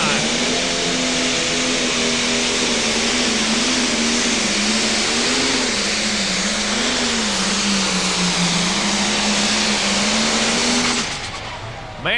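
Pro stock drag race car at an NTPA championship in Bowling Green, Ohio, launching hard down the track: a loud, sustained engine roar with wavering pitch fills the run before cutting off abruptly near the end.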